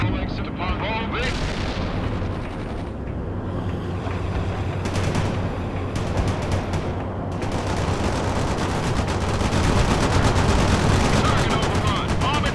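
Dense combat in the strategy game World in Conflict: continuous rattling gunfire and heavy cannon blasts layered with booming explosions, loud and sustained, with radio-style voices mixed in.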